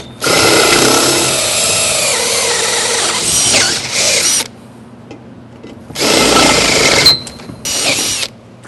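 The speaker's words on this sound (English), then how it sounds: "I'm going to come back and clean up the bottom 10 holes with a 1/4 inch drill bit" A power drill with a 1/4 inch bit cleans out bolt holes in a stair cable railing post, whining loudly in a long burst, then two shorter bursts after a quiet pause; close and with no talking.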